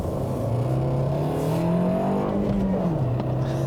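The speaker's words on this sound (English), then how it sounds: "it's a little bit loud in here, from the buzzy engine to the road noise to the rattles in the dash" The small buzzy engine of a 2017 Fiat 500 Lounge climbs in pitch as the car accelerates, heard from inside the cabin with steady road noise underneath, then drops briefly as it shifts and resumes.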